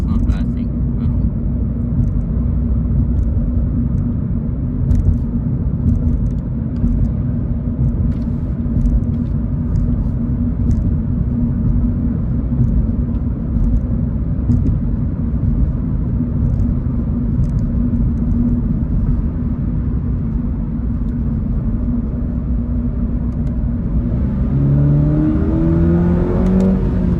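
A 2023 Subaru BRZ drives along with a steady, loud engine and exhaust drone heard from inside the cabin, a constant low rumble throughout. Someone talks over the engine the whole time.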